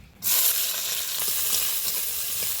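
Chopped onion and green chilli hit hot oil in a pan, bursting into a loud, sudden sizzle that holds steady and bright, with faint stirring clicks beneath.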